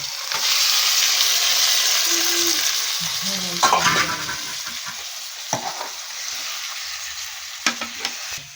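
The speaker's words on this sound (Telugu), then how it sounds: "నూనెలో చికెన్ వేసుకున్నా." Chicken frying in oil with ginger and spices, a loud, continuous sizzle with occasional scraping stirs and sharp clinks of a spoon against the pan, no talking.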